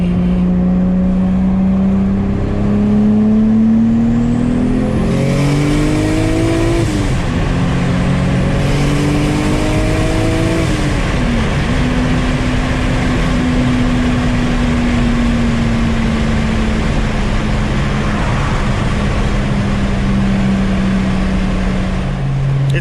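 A 700 hp 2JZ-swapped Nissan 350Z engine pulls hard under throttle, its loud rising drone climbing through gears with shift breaks, then settling into a long steady roar.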